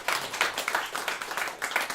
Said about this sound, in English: Big round of applause for Hattie Hayridge there.